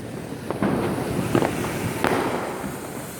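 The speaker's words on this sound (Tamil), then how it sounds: "சென்னை நகரத்தில் ஃபுல்லாக பட்டாசு வெடித்து கொண்டு இருக்காங்க." Diwali firecrackers burst across Chennai, several sharp cracks and pops scattered over a continuous wash of distant crackling and rumbling explosions.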